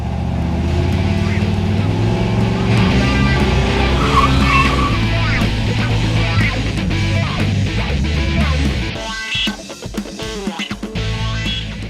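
A car engine fitted with an MSD 6AL2 ignition box is held on its two-step rev limiter at about 4,000 RPM, giving a loud, sustained, stuttering roar that dips and changes near the end.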